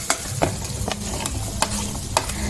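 Onions and garlic sizzle steadily in hot oil in a pan, with a spoon scraping and stirring at intervals, producing sharp clicks over a constant frying hiss.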